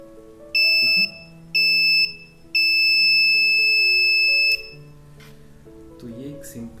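An Arduino flame-sensor fire alarm buzzer sounds two short, shrill beeps and then one longer sustained tone. Quieter background sound continues after the alarm stops.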